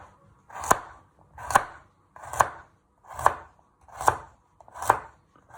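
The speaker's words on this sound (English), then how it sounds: "you just want to finely slice it into little moon shapes" A sharp knife slices a carrot on a cutting board in six evenly spaced, crisp chops, close and clear, with quiet pauses between strokes.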